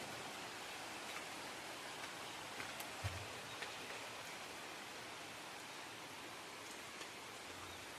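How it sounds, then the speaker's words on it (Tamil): Heavy morning rain falls in a village, a steady broadband hiss with a few scattered drips and taps standing out, moderately distant and without any talking. "பாருங்கள் நல்லா மழை பெய்யுது எங்கள் ஊரில்"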